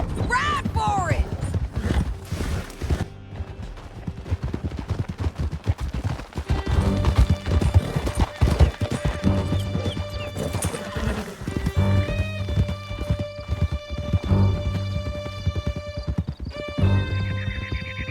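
Horses gallop with rapid hoofbeats in a Red Dead Redemption 2 chase through a canyon, loud and steady under a dense game score, with occasional whinnies and distant gunfire.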